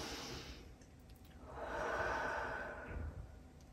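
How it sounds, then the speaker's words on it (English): A group of students and staff at a school assembly draw one long, audible deep breath together, a soft broad rush of air swelling mid-clip, then easing into a quieter exhale. "the first thing I want people to do is take a deep breath"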